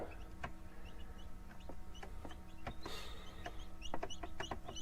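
Chickens, brown and mixed-colour incubated birds kept off grid by a tiny house, cluck in short, scattered bursts at moderate distance over a steady low background hum, with occasional sharper calls.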